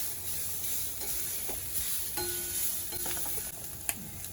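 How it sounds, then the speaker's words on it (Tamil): Coconut rice ingredients slow-roasting in a pan over a low flame, a soft steady sizzle with a few light clicks and stirring scrapes, fairly quiet and close. "சீக்கிரமாக இல்லாமல் கொஞ்சம் மெதுவாக வறுக்கலாம்"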